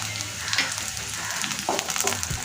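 Green chillies, curry leaves and torn leftover dosa pieces sautéing in oil for dosa upma, giving a steady close sizzle with small crackles and a few soft stirring scrapes, no voices.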